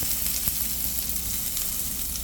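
Garlic and onion hit hot oil in a pan while cooking sardines, giving a loud, steady, crackling sizzle with small pops throughout and no talking.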